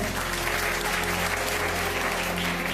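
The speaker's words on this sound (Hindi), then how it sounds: "जोरदार ताली बजाएं परमेश्वर के लिए" A church congregation claps steadily and loudly, dense applause filling the whole stretch with an even roar.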